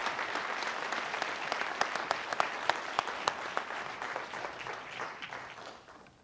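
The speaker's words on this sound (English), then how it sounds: "One more round of applause, please." Audience applause fills a police awards ceremony, a steady wash of many hands clapping with sharp individual claps standing out, then tapering off toward the end.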